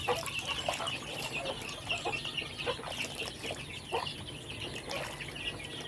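Native hen clucking repeatedly in short, soft bursts, fairly close, with no talk over it.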